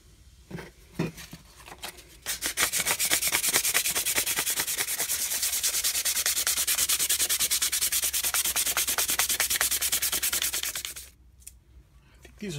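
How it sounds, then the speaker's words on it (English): Rapid back-and-forth rasping of sandpaper on a wooden gun stock, steady and close for several seconds, preceded and followed by a few light taps. "This will be the final sanding step before we start applying some of the stain."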